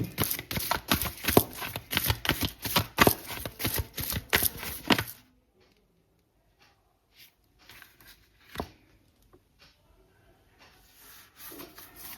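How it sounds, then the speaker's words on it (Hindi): Tarot cards shuffled by hand in a fast, steady riffling rhythm for about five seconds, up close; after that come quiet pauses broken by a few soft taps and rustles. "मैं एक बार और शफल करती हूँ, मुझे एक ही कार्ड चाहिए।"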